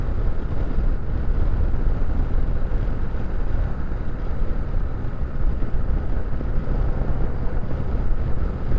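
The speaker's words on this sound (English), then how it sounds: "A little breezy this afternoon" Steady, dense wind roar buffets the microphone while riding a KLR650 motorcycle on a warm, breezy afternoon, loud and continuous with a low rumble throughout and no talking.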